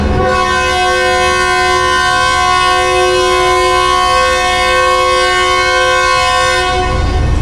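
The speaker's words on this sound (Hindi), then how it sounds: "हेलो जाने भाई, भैया जी फर्स्ट डिपार्चर विसल हो गया है।" The Green Line Express train sounds its first departure whistle at the platform, a loud, sustained, steady horn-like blast that holds an even pitch for several seconds before cutting off.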